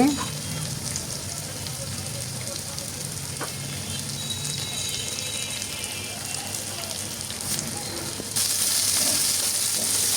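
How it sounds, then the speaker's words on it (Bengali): Onions sizzle in hot oil in a pan as the base for a thin curry of free-range chicken with potatoes: a steady, dense hiss runs throughout and grows louder near the end. "এই তো পেঁয়াজগুলো প্রায় ভাজা হয়ে গেছে"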